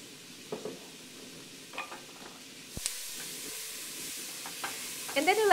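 Onions dropping into melted butter in a deep pan, with a soft sizzle and stirring that grows into a louder, brighter frying hiss toward the end, close and steady with no talk.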